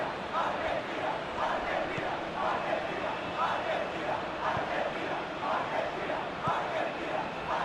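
Steady stadium crowd noise from a football video game simulation, a broad roaring wash with rhythmic swells of chanting that stays fairly distant and even throughout.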